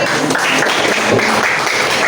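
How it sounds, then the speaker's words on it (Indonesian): Applause for Putri in a classroom-style setting, a loud continuous wash of clapping from a group, close and dense, with possible voices mixed in beneath it. "Oke, tepuk tangan untuk Putri."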